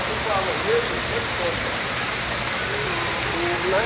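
Water pours steadily through a minigolf course water feature, a constant splashing rush like heavy rain that stays close and even, while voices talk faintly over it.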